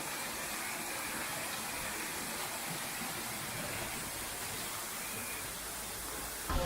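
A waterfall in the jungle area of San Diego Zoo, a steady, even rush of falling water heard at moderate distance, with no voices.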